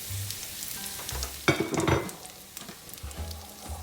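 Coconut-covered shrimp and diced onions sizzle in hot olive oil in a pan, a close, steady frying hiss with a sharp burst of crackling as food is stirred, no voices.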